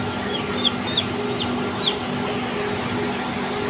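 Malaysian roosters and chickens on a farm give a few short, faint clucks over a steady background hum.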